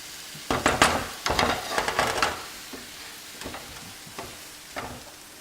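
Diced filling vegetables for a beef pot pie softening in a pan, a soft sizzle under clustered scraping stirs from a utensil, loud bursts early then sparser strokes later, with no talking.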